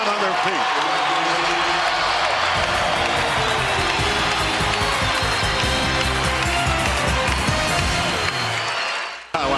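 A basketball arena crowd on its feet cheering Kobe Bryant late in the third quarter, a loud sustained roar of cheers and applause with an announcer talking over it, cutting off abruptly at the end.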